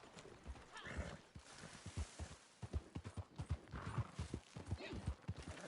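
Hooves clopping in quick uneven rhythm at close range, with a horse's whinny mixed in over a rough, noisy background.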